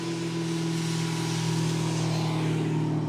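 A Formula Drift PROSPEC car engine bogs down during a knockout qualifying run, giving a loud, sustained droning growl that holds steady and slightly swells without any sharp revs.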